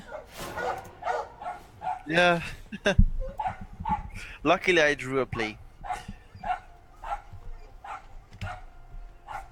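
Dogs bark and yip at intervals in the background while someone talks over them, with a couple of louder barking bursts standing out between his phrases.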